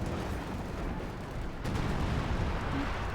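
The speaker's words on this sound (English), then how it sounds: "Artillery fire in the centre." Artillery fire in the video game Company of Heroes 2 during a match, a dense, continuous rumble of distant booming blasts with no clear separate shots.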